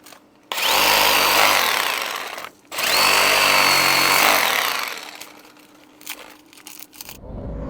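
A power saw cuts away frass at the base of a queen palm trunk during hurricane trimming, giving two loud, sustained buzzing cuts separated by a brief pause, followed by quieter intermittent rough scraping.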